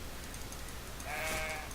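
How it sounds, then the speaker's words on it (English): A sheep in the video game Dark and Light gives a short bleat near the end, a brief voiced cry over a low ambient game background. "Oh look, a hapless sheep."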